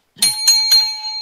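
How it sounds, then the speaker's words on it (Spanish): A bell is struck three times in quick succession, each bright metallic strike ringing on and sustaining into the next, close and fairly loud with no talk over it. "Con campana y todo."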